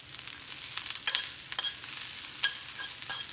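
Onions fry and char in a pan with a soft, continuous sizzle and crackle, broken by occasional stirring scrapes, close and moderately quiet, with no talking.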